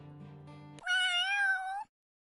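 Cat in the Granblue Fantasy video game: a low tone gives way to a single loud, drawn-out rising-then-falling meow, with no talk.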